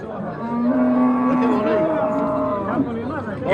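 A cow moos loudly and close by at a livestock market, one long drawn-out low call, with faint crowd chatter in the background.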